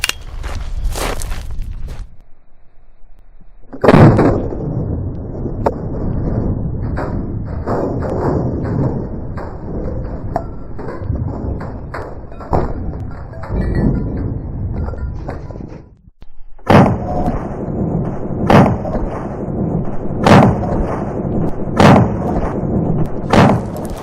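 A CZ Scorpion Micro EVO 3 S2 pistol with a red dot fired at an outdoor range, a long run of sharp, loud shots in rapid strings, with a short gap before a final volley of spaced rounds.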